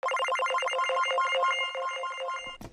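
A bright synthesized ringtone-style arpeggio from a Native Instruments Maschine expansion trills in fast repeating notes, loud and steady, before cutting off with a short glitchy burst.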